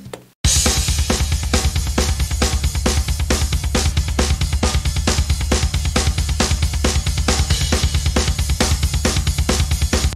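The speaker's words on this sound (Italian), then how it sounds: "Sentite il Charleston come esce fuori?" A full drum groove plays steadily, with crisp hi-hat ticks riding high over the kick and snare in a driving, even rhythm.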